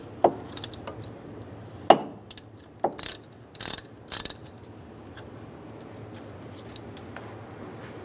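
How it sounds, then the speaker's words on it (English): A socket wrench with a 13mm socket ratchets a nut off the alternator cable of a 1998-2010 Volkswagen Beetle, a few sharp clicking ratchet bursts close by, spaced irregularly over a quiet background. "Use a 13mm socket. Take the nut off."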